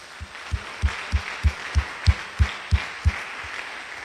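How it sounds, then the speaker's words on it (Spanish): Church congregation claps in a steady, slow unison rhythm, about a dozen evenly spaced beats sounding moderately near over a faint room hiss, with no voices. "Ofrézcale un aplauso,"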